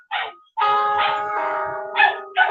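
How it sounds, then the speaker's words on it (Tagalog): A dog barks in short bursts near the start and again toward the end, mixed with a sustained tonal voice as someone sings at home without a microphone. "May kasabay pang aso."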